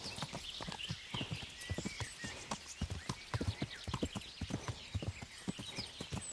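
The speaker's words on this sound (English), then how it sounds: "Learn how to ride a horse." Horse hooves clip-clop in a steady, quick rhythm in the medieval video game Kingdom Come: Deliverance, the footfalls close and continuous throughout.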